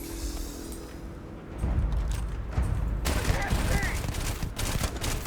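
Gunfire from the Furious gun in the Starfield video game: a burst of rapid, loud shots starts about a third of the way in and keeps up, dense and booming, through to the end.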